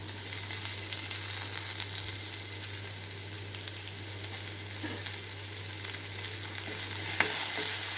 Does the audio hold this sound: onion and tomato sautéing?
yes